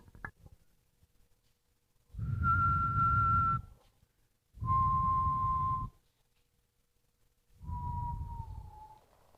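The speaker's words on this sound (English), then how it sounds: "I hear the whistling." Three long, steady whistled tones separated by pauses, the last one drooping slightly in pitch, over a low rumbling background.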